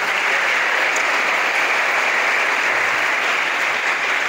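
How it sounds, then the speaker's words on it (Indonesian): Applause from an audience of hundreds of Islamic boarding school students at an opening session: dense, steady clapping sustained throughout, loud and even, with no talking over it. "Tepuk tangan untuk generasi Al-Mizan hari ini."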